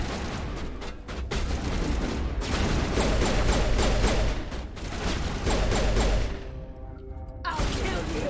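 Sustained gunfire in a Mass Effect firefight, rapid overlapping bursts and shots for several seconds, loud and dense, dropping briefly before a final burst.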